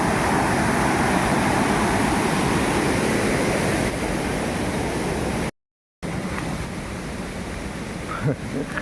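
Saeng Chan waterfall at Khong Chiam, Ubon Ratchathani, Thailand, pours down in a loud, broad rushing roar. The roar drops off in a brief cut partway through and returns fainter.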